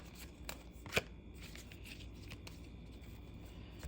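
Angels of Abundance oracle cards shuffled by hand, a soft, quiet run of riffling and flicking with one sharper snap.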